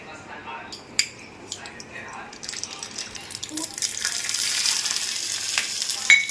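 Mustard seeds are heated in hot oil for a tempering, starting with a few clinks of a utensil, then a crackling sizzle that swells and grows busier and louder toward the end.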